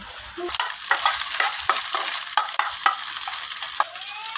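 Capsicum, cabbage and green chillies stir-fried in a pan with egg, giving a steady close sizzle broken by sharp scraping and clanking strokes of the spatula at an uneven rhythm.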